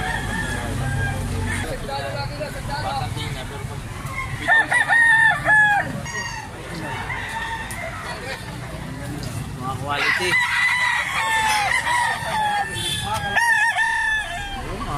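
Several roosters crow loudly and repeatedly nearby, with clucking hens in between, while someone speaks briefly over the birds at a rooster market in the Philippines.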